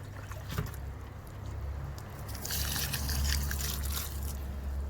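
Water splashing and trickling as it's poured onto compost in a self-watering garden, growing louder midway, with a low rumbling hum in the background.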